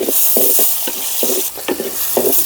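Masala with tomato fries in a pan for a fish curry, a steady loud sizzle under rhythmic scraping strokes of a spoon stirring, close up, with no voices.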